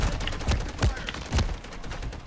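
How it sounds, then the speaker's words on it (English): Rapid bursts of gunfire from a sentry gun in a first-person shooter video game, several distinct loud volleys spaced about half a second apart over steady game background noise. "Dude, why did my sentry gun shoot him?"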